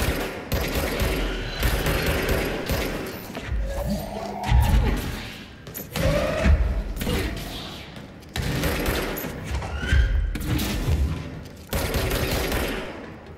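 RPG rocket fire and gunfire in the video game Control: repeated heavy blasts and crackling shots in rapid succession, dense and loud throughout, with occasional whooshing effects.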